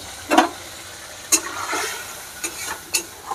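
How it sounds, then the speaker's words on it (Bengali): Spice paste fries in a pan and a spatula stirs it in a few scattered scraping strokes over a low sizzle. The sound is close and fairly quiet. "হালকা করে একটু নেড়ে নিলাম।"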